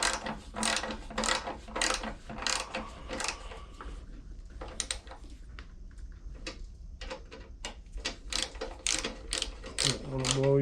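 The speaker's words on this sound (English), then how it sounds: "Don't forget to tighten these up." Close ratchet wrench clicking in quick bursts while tightening the cylinder head bolts on a 3.5 HP Briggs & Stratton lawn mower engine, with pauses between runs of rapid clicks.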